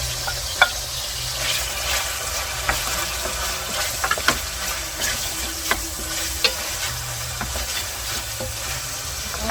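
Vegetables stir-fry in a hot pan for fried rice, giving a continuous sizzle broken by sharp scraping stirs and clinks of the utensil at irregular intervals, close and fairly loud.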